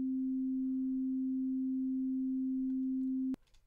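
A steady 262 Hz sine test tone, the lowest of a set of pitches, holds at a constant level for over three seconds, then cuts off abruptly into faint room noise.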